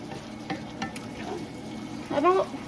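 Chopped onion fries in a pan with a low, even sizzle and a few soft stirring taps, close up, ending with a brief squeaky scrape.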